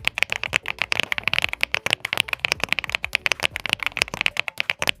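Typing on a purple Aula mechanical keyboard with Leopox Star Vector switches, a fast run of deep, creamy clacks and muted key taps, close and even, with no voice over it.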